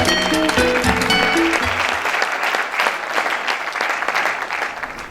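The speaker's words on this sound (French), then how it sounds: "T'applaudis encore très fort, Isa." A crowd at a community event in the DR Congo applauds a speaker loudly and continuously. Music fades out under the start of the clapping.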